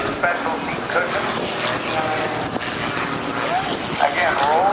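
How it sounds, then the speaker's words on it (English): Aerobatic propeller airplane flown through a rolling half Cuban 8 at a 2008 naval air station airshow, its engine droning steadily at a distance under continuous announcer talk and crowd noise. "rolling the airplane on the F-line, doing this rolling 1/2 Cuban 8"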